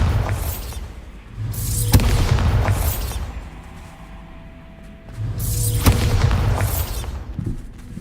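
Bombarda spell explosions in Hogwarts Legacy go off as two heavy booming blasts a few seconds apart, each with a sharp crack and a rumbling tail, set against a low game ambience.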